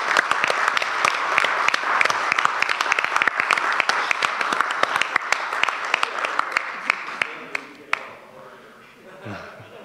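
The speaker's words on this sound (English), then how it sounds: "just give him a round of applause." An audience applauds as a senator is called up for an award recognition at a community college system event, a long burst of many hands clapping that thins to a few scattered claps and then stops.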